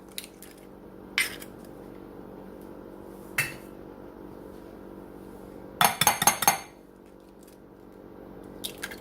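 Two eggs beaten in a bowl for mac and cheese: a few scattered clinks early on, then a dense burst of rapid whisking clatter against the bowl near the end, close and fairly loud.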